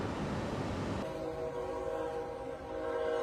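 A train draws near a crossing in Luling, Texas, where it strikes an 18-wheeler carrying wind turbine blades; a burst of rumble gives way to a sustained horn blast with steady rail noise underneath.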